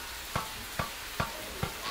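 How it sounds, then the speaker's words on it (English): A fluttering noise from the horror video game Siren: Blood Curse comes as four evenly spaced soft thumps, about two per second, over a constant hissing background. "You hear that fluttering noise?"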